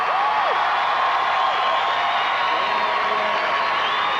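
A crowd at the 2005 X Games best trick event roars in a dense, continuous wash of cheering and whoops, sustained throughout at a loud, distant stadium level.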